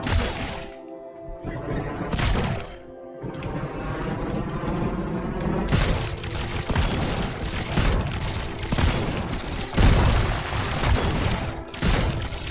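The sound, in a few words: cannons firing and explosions, video game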